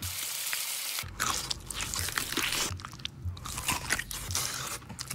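Someone bites into crispy, spicy Goobne Gochu Basasak fried chicken, producing a quick series of loud, close, sharp crunches and chewing noises with no talking.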